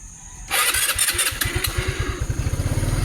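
A motorcycle engine starts abruptly and settles into a steady, rapid idle thump during an engine-check repair, close and loud with no talk.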